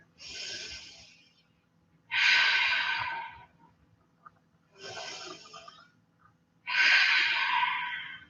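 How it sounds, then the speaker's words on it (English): Slow, deep breaths during a yoga hold on a mat, four long broadband exhale-like rushes alternating with quiet gaps, close and steady with no talking. "And we'll take 3 deep breaths here."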